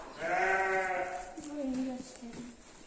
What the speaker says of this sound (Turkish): Ve şu anda koyunlarımız yaygında.